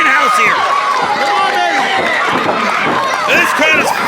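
Wrestling crowd at an indie GMW show roars steadily throughout, a dense wash of cheering and shouting with a commentator's voice running over it.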